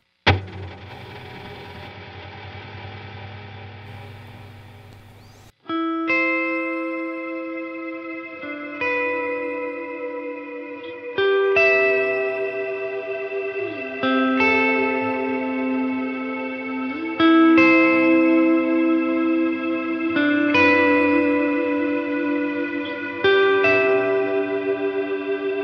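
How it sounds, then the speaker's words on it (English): Electric guitar through a Line 6 Helix atmospheric reverb preset blending a particle verb and a plateau, sounding alone as sustained, shimmering chords that swell and overlap in a long wash, opening with a low droning pad before distinct chord strums. "So my atmospheric reverb preset is a particle verb mixed with a plateau."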